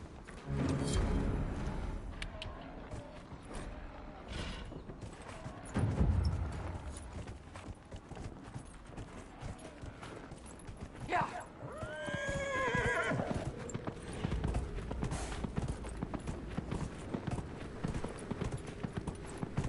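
Horse hooves clip-clop at a walk in the video game Dragon Age: Inquisition, with a horse whinnying partway through and snorting, quiet and close.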